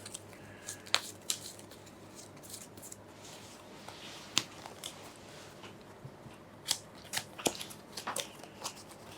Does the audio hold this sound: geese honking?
no